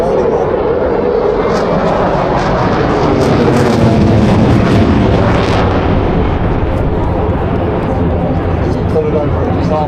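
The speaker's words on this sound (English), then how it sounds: "Put it over the top, watch the aircraft speed up." A fixed-wing aircraft at the Blackpool airshow rolls through an orbit, its engine giving a loud, continuous roar that stays steady throughout, with crowd or commentary voices mixed in beneath.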